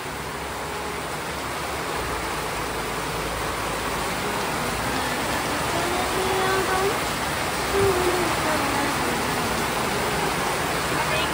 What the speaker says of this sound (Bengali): তোমরা দেখো কি সুন্দর বৃষ্টি হচ্ছে।